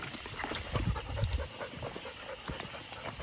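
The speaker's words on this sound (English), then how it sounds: "Coon dog, Samson." A coon hunting dog pants quickly and softly nearby on a hot summer night, its breaths coming in a quiet, rapid rhythm with a few faint shuffling sounds.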